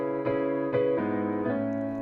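Retro-colored chords processed with an RC20 Retro Color wobble effect. Soft sustained chords strike four times, with a gentle pitch wobble giving a warm, old-tape feel, heard quietly on their own.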